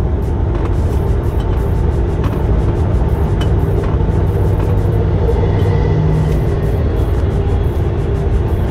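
A blue truck passes along the road on a stormy day, a steady broad roar of traffic that stays loud and fairly even throughout, with no voices.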